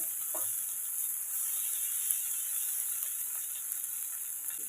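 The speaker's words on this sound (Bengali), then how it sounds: "নেড়ে চেড়ে ভালো করে ভেজে নেব একটু সময় নিয়ে নেড়ে চেড়ে এটিকে ভালো করে ভেজে নিতে হবে" Snake gourd stir-fried in a pan as a steady, moderately loud sizzle runs throughout, with a faint occasional stir.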